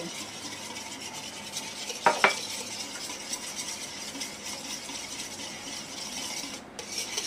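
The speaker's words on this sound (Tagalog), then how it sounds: "Haluin lang mabuti mga kapatid." Cake batter of milk and oil with baking powder being mixed in a bowl, a soft continuous scraping and swishing with a brief sharper clink, close and fairly quiet, no talk.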